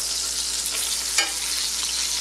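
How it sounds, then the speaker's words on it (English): Chicken sizzles in a pan of Irish butter and olive oil, a steady bright hiss with a faint stir or crackle partway through, close up and without voices. "Hear that sizzle?"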